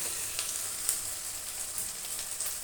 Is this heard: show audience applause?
no